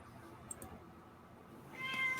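A cat meows faintly in a quiet room, with a couple of soft cries early on and a louder, more tonal call near the end.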